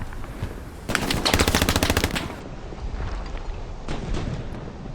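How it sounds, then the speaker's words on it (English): Rapid machine gun fire from the Hell Let Loose video game rattles in one sustained, close burst of fast repeated shots lasting over a second, followed by quieter battlefield rumble and a distant sharp report. "They're shooting at you!"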